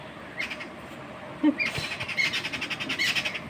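Small birds feeding outdoors on fried puffed rice scattered from a basket, with chirps and squawks repeating through the clip and growing busier in the second half, with no talking.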